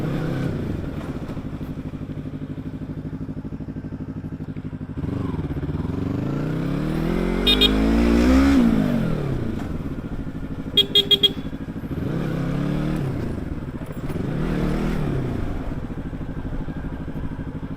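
A Yamaha R25 motorcycle ridden at night, its engine and exhaust droning steadily close by and rising and falling in pitch as the rider revs through gears, with a few brief sharp clicks.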